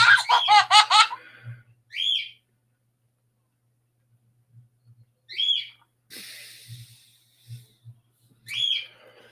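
A pet bird gives several short, bright whistled calls spaced apart by silence, following an opening burst of laugh-like chirping, near and fairly loud against a quiet room.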